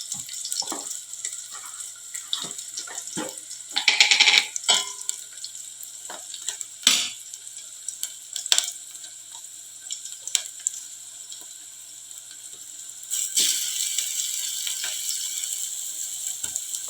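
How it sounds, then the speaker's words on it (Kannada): Ginger garlic paste frying in a pan, with an intermittent sizzle and repeated clicks and scrapes of a spoon against the pan, close by. A louder burst of hissing comes near the end, and no one speaks. "ಈಗ ಇದು ಹಸಿ ವಾಸನೆಗೆ ಹೋಗೋವರೆಗೂ ನೀವು ಫ್ರೈ ಮಾಡ್ಕೋಬೇಕು"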